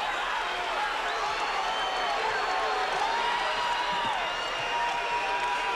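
A packed arena crowd at a 1999 Utah Utes versus Utah State Aggies men's college basketball game roars after a slam dunk, a dense, sustained wall of cheering and whooping with a commentator's voice faintly underneath.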